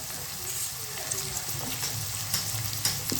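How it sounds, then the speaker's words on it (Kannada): Vegetables, including beans, fry together in a pan at home, making a close, continuous sizzle with light scraping and stirring clatter over the top. "ಎಲ್ಲ ಫ್ರೈ ಆಗ್ತಾ ಇದೆ"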